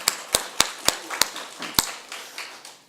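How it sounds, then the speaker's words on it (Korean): Applause during a church sermon as a short run of sharp, evenly spaced hand claps, about seven loud ones, trailing into softer scattered clapping. "그 하나님께 박수 한번 드릴게요."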